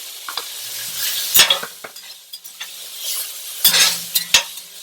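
Vegetables for Caribbean-style black beans sauté in a pan, a soft sizzle broken by close spoon scrapes and stirring clatters at irregular intervals.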